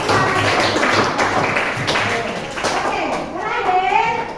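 Schoolchildren clap their hands in a classroom, with loud, busy tapping and thumping mixed with children's voices and talk throughout.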